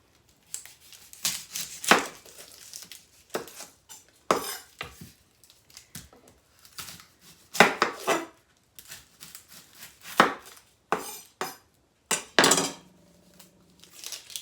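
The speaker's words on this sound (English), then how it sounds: "I'm going to chop up 1 medium-sized onion." A knife chopping a Vidalia onion on a cutting board: a run of sharp, separate knocks and clatters in irregular bursts, close and moderately loud, with brief pauses between clusters and no voices.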